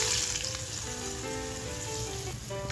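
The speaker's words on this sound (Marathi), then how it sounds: "हे बघा मस्त आपण फोडणी आता ह्याच्यावर घालूया" Hot spice tempering poured over eggplant bharit crackles and sizzles loudly and steadily, a dense close-up frying hiss with no talking.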